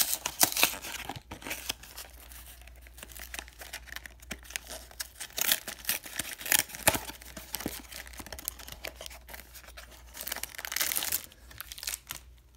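Packaging of a 2018 baseball card hanger box is crinkled and torn open up close, with repeated sharp rustling bursts and plastic crackle over about twelve seconds.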